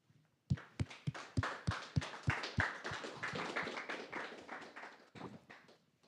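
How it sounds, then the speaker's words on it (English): A small audience claps as speakers walk onto the stage at a startup event on crowdfunding, beginning with distinct, slow, hollow claps that swell into a steady spatter of applause, then taper off; no voices over it. "So please just give them a round of applause that they will be on a stage"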